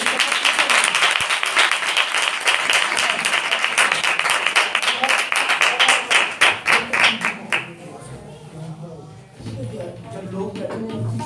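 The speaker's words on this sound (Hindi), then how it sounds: "जोरदार तालियां खुदा पाक रूह के लिए बजा दे।" A worship congregation at a Sunday meeting claps loudly and continuously, the patter turning into rhythmic unison beats before it stops, and then murmuring and voices remain.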